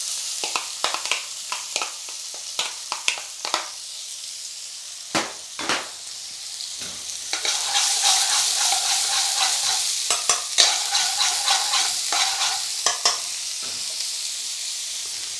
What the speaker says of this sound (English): And now we're going to add in our onions.